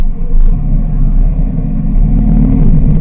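A motorized tricycle crosses a bridge, its engine a loud, steady, close rumble that carries on without pause.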